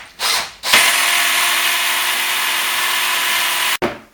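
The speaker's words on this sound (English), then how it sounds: "Drill down here and drill up here as close to the bottom and as close to the top as you can" Power drill boring into a uPVC window frame during installation: a brief start, then a loud, steady high whine held for about three seconds before cutting off, close up with no talk.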